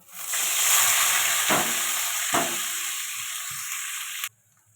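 Onions dropped into hot oil in a pan for a fish curry give a loud, steady sizzle that starts at once, holds for about four seconds with a couple of stirring scrapes, then cuts off abruptly.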